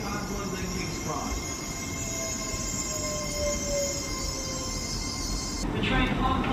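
An LNER train rumbles at a Doncaster station platform with a steady low roar and a thin wheel squeal, while a voice announcement plays over the noise.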